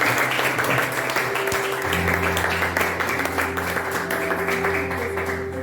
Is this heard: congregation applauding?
yes